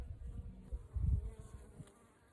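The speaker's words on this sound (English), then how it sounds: "I'm gonna get my brush and brush these bees off" A steady buzz from many bees in an opened hive during a winter inspection, a low droning hum that swells briefly and then settles, heard up close with no talking.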